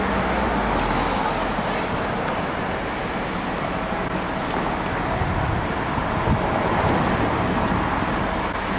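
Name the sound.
street traffic with a Eurolines bus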